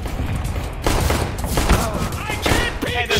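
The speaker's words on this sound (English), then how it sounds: "One shot headshot from this player." Gunfire in CS:GO, played on mouse and keyboard, with dense bursts of shots and thuds over steady game noise, while players talk over the action.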